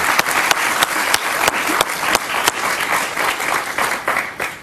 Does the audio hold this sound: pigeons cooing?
no